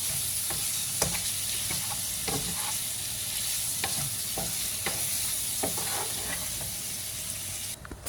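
Meat fries in a pan for a rice stew, a steady sizzle broken by repeated scrapes and clicks of stirring, fairly quiet, with no talking.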